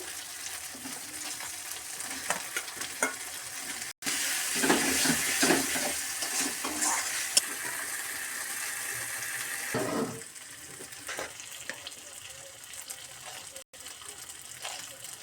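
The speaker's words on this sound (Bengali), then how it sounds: "শুকনো লঙ্কা বাটা দিয়ে দিচ্ছি, এবারে একসাথে সব ভেজে নেব।" Dried chilli paste and chopped tomato frying in a pan: a close, loud burst of sizzling that swells when ingredients go in, then settles into a steadier fry with stirring scrapes, no voices.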